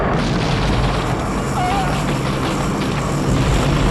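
Giant practical explosions in the 1987 James Bond film The Living Daylights fill the clip with a steady, loud, low boom and roar, and a voice may be faintly mixed in.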